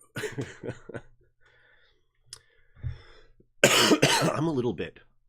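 A few short coughs and throat noises from a man recovering from an illness, near the microphone, separated by quiet gaps, ending in a louder burst of coughing.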